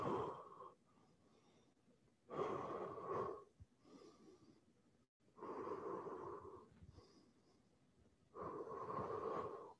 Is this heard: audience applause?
no